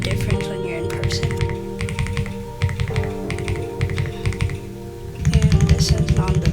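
Typing on a Royal Kludge RK R75 mechanical keyboard, with the Z key lubed and the X key unlubed, gives bursts of rapid, close clicky-thocky keystrokes and short pauses between runs, ending in a denser, louder flurry.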